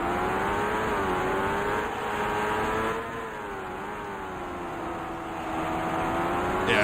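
Race car engine over-revving in the Indycar Racing II video game, a continuous high-pitched whine that holds steady, dips briefly, then climbs again, loud and alone.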